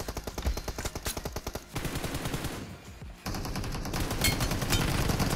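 Automatic gunfire in the PUBG Mobile video game: rapid bursts of shots, a steady rattling stream that breaks off briefly, then resumes as a denser, sustained volley, loud and close with no talk.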